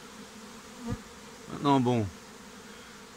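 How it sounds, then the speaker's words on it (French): A honeybee swarm buzzes at an apiary, rising into a brief, louder droning swell midway through, with someone talking nearby. "Et je me tape mon premier essaim."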